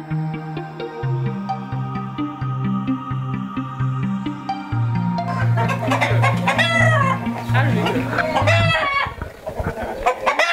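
Clucking chickens and crowing roosters at a poultry farm in Dakar, the birds loud and close under a strong musical backdrop, with a drawn-out crow rising over the flock's chatter.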